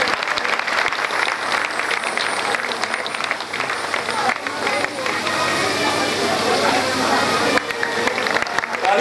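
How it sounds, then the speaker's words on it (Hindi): Audience at a Shrimad Bhagwat Katha religious gathering in Maharashtra claps steadily to welcome a visiting guru, a dense continuous applause filling the hall with some crowd noise mixed in. "खुशियों से जरा तालियों से स्वागत करें उनका।"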